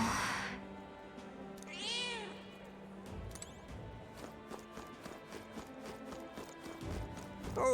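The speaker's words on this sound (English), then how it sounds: "That's a good kitty." A cat meows in the video game Metaphor ReFantazio, a rising and falling cry near the start over a steady game background of ambient sounds and light footsteps.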